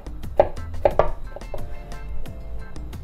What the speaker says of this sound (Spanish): Y ahora con mi cuchillo Victorinox vamos a picar en brunoise o en cubitos muy pequeñitos o finos nuestra media cebolla roja.